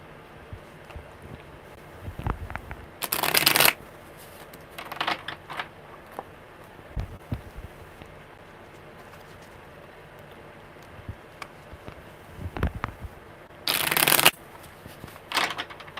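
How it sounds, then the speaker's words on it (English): Two short bursts of tarot cards being shuffled, each riffle lasting under a second, separated by quiet room noise and a few soft taps. "One more good shuffle"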